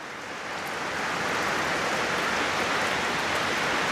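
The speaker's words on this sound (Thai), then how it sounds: "มายามใดก็ฝนตกตลอด" Steady rain falling, a dense constant hiss that rises slightly at first and then holds loud and even throughout, with no voices.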